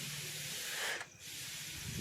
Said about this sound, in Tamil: அந்த ஸ்ப்ரே பாட்டில் வச்சு ஸ்ப்ரே பண்ணிகிட்ருக்கேன்